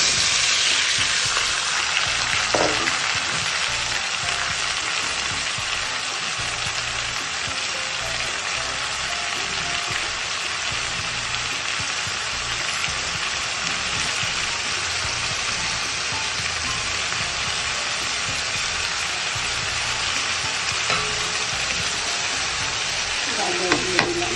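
Mixed vegetables with carrot and ginger sizzle loudly in a pan for a Chinese-style stir-fry, a dense, steady hiss with soft stirring scrapes now and then.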